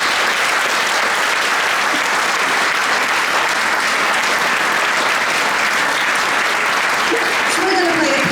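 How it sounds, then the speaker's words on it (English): Sustained, dense applause from an audience at the Wigan International Jazz Festival for a youth jazz orchestra, loud and steady throughout with faint voices mixed in. "So I'll just give them a big clap."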